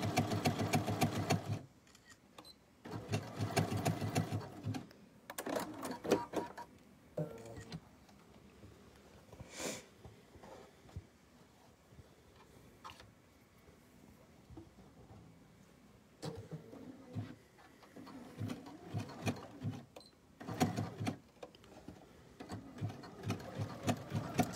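A sewing machine stitches fabric for fabric bowls, its motor running in several short bursts with quiet pauses between them, close and fairly faint, with no voices.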